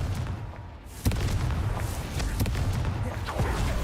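Confringo explosion spell in Hogwarts Legacy, a sudden loud blast followed by crackling debris and rumbling effects, with a few smaller thuds afterward.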